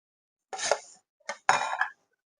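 Chopped green chillies tipped into a salad bowl with potato, giving two short clattering bursts of pieces and a utensil striking the bowl, close and alone.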